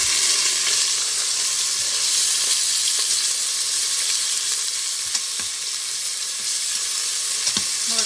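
Beef browns in hot grease in a pan with a dense, constant sizzle and occasional small pops and stirring scrapes, steady and close from start to finish.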